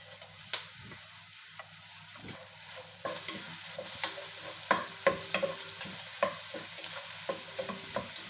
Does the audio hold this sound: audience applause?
no